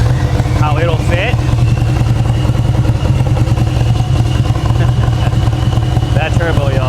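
A turbocharged motorcycle engine with over 400 horsepower runs steadily and loud throughout, a continuous low rumble with turbo whine, while a person talks briefly over it.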